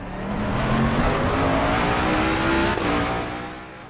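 A race car in the Assetto Corsa Competizione sim racing game, running an aggressive setup that understeers heavily, holds a loud, steady engine drone with smoothly rising pitch for several seconds, with no talking.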